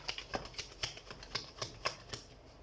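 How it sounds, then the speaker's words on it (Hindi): Tarot cards being shuffled in a quiet room, a run of eight or nine short, crisp riffling snaps at a steady, even pace, close and moderately soft with no voices. "कार्ड शफल कर लेते हैं।"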